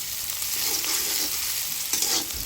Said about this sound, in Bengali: লবণ দেওয়ার পর নেড়ে চেড়ে ভালোভাবে এগুলো ভেজে নেব যতক্ষণ না মুচমুচে হয়ে আসে।